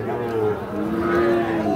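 A Sahiwal bull calf at a busy rural cattle market gives a long, drawn-out moo close by, over crowd chatter and voices talking.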